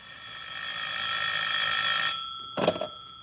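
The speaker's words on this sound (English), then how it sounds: "As I came up the stairs, I heard my phone ringing." A telephone rings with a steady electronic trill for about two seconds, then a brief clatter follows, like the handset being picked up.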